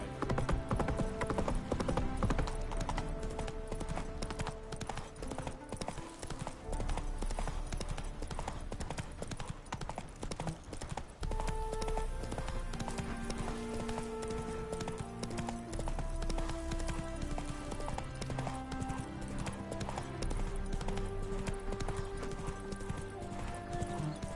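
A horse gallops in The Witcher 3 on PS5, its hooves pounding in a steady, fast rhythm for the whole stretch under continuous game music.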